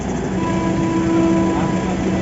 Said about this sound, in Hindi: तो अभी देखिए रेलवे यहाँ से ट्रेन गुजर रही है